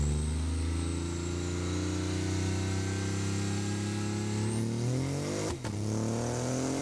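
A Mazda 13B rotary engine fitted in a BMW i8 revs through a custom exhaust of two Borla Pro XS mufflers in series with a Helmholtz resonator, a loud, close, continuous buzzing drone that climbs steadily in pitch, then dips briefly near the end.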